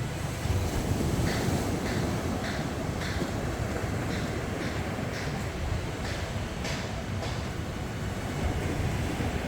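Steady roar of ocean surf at Ochheuteal Beach in Sihanoukville, Cambodia, a continuous broadband wash of breaking waves with wind buffeting the microphone, loud and unbroken throughout without any talk.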